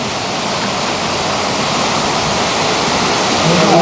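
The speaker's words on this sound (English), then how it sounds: "Beautiful waterfall" A waterfall in the Bahamas roars as a dense, steady rush of falling water, loud and close, continuous throughout.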